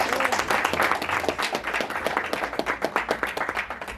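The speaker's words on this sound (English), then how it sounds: "Can we give him a round of applause?" An audience breaks into dense, sustained clapping that stays loud and close, with a faint voice underneath.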